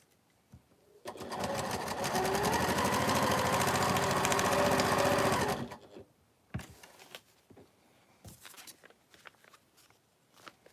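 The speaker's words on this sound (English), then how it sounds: "then you just stitch all the way through" A sewing machine stitches quilt fabric for a Christmas wall hanging, a fast steady mechanical whir that runs loud and close for about five seconds, then stops, followed by light clicks and handling sounds.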